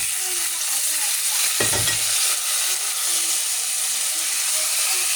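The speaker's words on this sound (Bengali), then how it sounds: "রসুন কাইটা রাখছিলাম অনেকগুলো ওগুলো দিয়ে দিলাম ভালো করে কষাবো" Chopped garlic hits a hot pan with onion and green chili for a potato and dried loitta fish dish: a steady close sizzle, with one brief scraping stir partway through.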